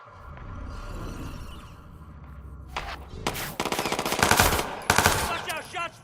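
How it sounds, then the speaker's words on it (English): Video-game gunfire breaks out as bursts of rapid automatic shots and scattered single cracks, growing louder and denser over a low background rumble, with repeated sharp volleys near the end. "Watch out, shots fired!"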